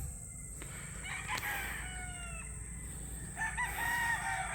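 Chickens at a new backyard coop, with a rooster crowing twice in drawn-out calls at moderate distance over soft clucking and steady outdoor background noise.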